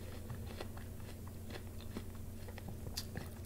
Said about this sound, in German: Angenehm zu kauen.